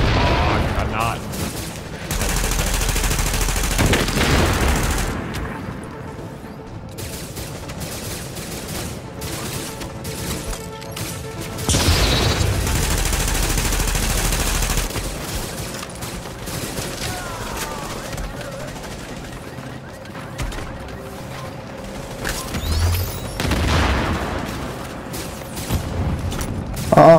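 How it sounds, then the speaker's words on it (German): Grenades bursting amid gunfire in The Division 2: several loud, broad blasts arrive minutes apart in separate waves, with scattered shots and mechanical clatter between them, while people talk throughout. "Oh, Granaten."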